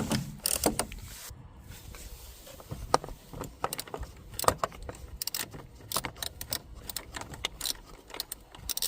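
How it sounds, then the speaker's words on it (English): A ratchet with an extension and 13mm socket works the battery hold-down bolt on a 2008-2017 VW Tiguan, giving close, quiet metallic clicks and small clattering bursts in an irregular rhythm. "I will remove battery hold on that's secure with 13mm bolt. And for that I'm using ratchet with extension and 13mm socket"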